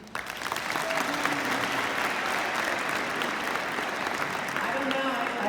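A large audience claps and cheers at a high school graduation ceremony, with dense, sustained applause that swells quickly and holds steady throughout.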